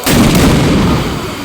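Firecracker bomb set off over water during a Kali Puja celebration, one sharp, very loud close blast that rings out and decays over a second, with no talk.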